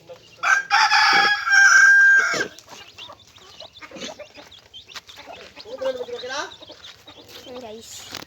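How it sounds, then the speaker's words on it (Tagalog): A rooster crows loudly up close, followed by scattered clucking from several chickens while a person talks nearby. "Yan guys yung mga manok."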